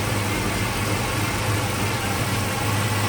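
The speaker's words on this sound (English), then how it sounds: "You can also hear the gear drive." A 1955 Chevrolet Bel Air Nomad two-door wagon V8 with gear drive and rolling rockers idles in a steady, loud, even rumble, the whine of the gear drive blended into the low engine drone throughout.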